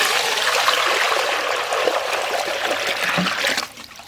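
Water runs steadily and fairly loudly from a tap while Bombay duck (lote) fish are washed in a village kitchen, a dense splashing trickle that cuts off near the end.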